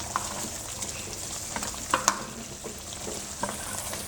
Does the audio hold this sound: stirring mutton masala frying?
yes